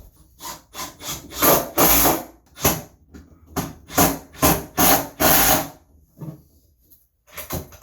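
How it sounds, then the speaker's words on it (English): Hinges are put back together on a wooden display case. Close, repeated short scraping and rubbing strokes come in an uneven rhythm with brief gaps, and there is no speech. "Next thing we need to do is put the hinges back together"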